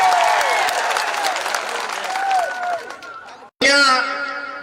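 A large crowd at an AAP Gujarat public rally claps to welcome MLA Chaitar Vasava. The applause is loud and sustained with whistle-like tones. It cuts out briefly, then bursts back in.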